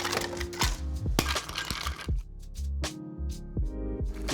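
Dense 1x1 ice cubes drop one by one into a cocktail glass, giving a series of sharp, close clinks and knocks, busy and clustered at first, then spaced out with small rattles between.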